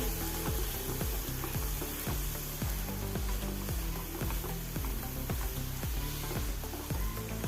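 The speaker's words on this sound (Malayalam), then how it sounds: "ഇപ്പം തന്നെ ഒന്ന് മിക്സ് ചെയ്ത് ഇളക്കി കൊടുക്കുക" A Kerala-style prawn fry sizzles loudly in a pan, with a dense, constant frying hiss and a steady rhythm of stirring scrapes about once every half second.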